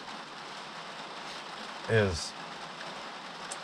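Rain falls on a van in a steady, faint hiss of patter throughout, with someone briefly speaking over it.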